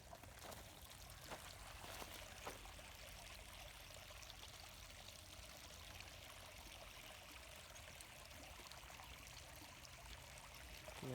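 Creek water rushing steadily along an eroding bank on a cold day, a continuous broadband wash with small trickling splashes, fairly faint and distant, no voices.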